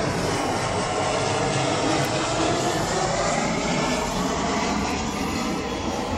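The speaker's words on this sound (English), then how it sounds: "So that's where that aeroplane has just taken off from." A loud, steady airplane engine roar during takeoff fills the whole stretch, a broad rumbling wash of noise that stays constant without any voices.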